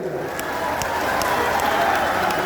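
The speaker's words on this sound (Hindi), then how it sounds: "जोर से ताली बजाइए" Crowd applause and cheering at an outdoor political rally in Sant Kabir Nagar, a dense steady roar of clapping and voices that stays loud throughout.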